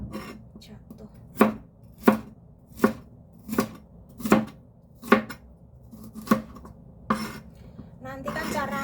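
A knife slices food on a cutting board in about ten evenly spaced, crisp thuds, close and distinct, ending in a burst of clattering.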